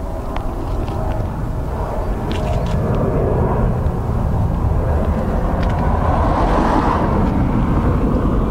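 A Ryanair airliner from Manchester at Dublin Airport roars as a broad, steady rumble that swells toward the end, heard from an outdoor spotting spot with wind buffeting the microphone.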